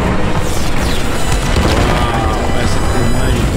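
Explosions in the Ahsoka TV series finale, episode 8, a dense, loud, continuous rumble of booms and blasts filling the whole stretch with broadband roar and no pauses.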